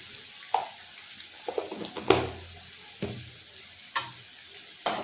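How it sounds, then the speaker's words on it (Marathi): Pumpkin pieces being stirred in a pan with turmeric for a Marathi red pumpkin bhaji, giving a soft steady sizzle broken by several sharp spatula scrapes and knocks against the pan. "छानपैकी परतवून घ्यायचं"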